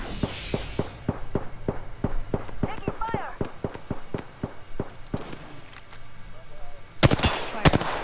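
Rapid bursts of automatic gunfire ring out in Apex Legends, a quick run of evenly spaced sharp cracks followed by scattered single shots and a dense final burst, mixed with footsteps and game effects.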